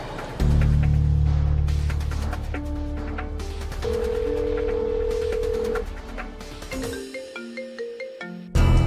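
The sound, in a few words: phone ringing on an outgoing call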